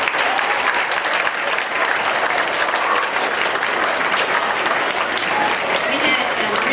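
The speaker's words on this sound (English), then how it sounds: "let's give yourselves one more round of applause" Elementary school students at a speech contest clap for themselves in a loud, dense, sustained round of applause that fills the room without letting up.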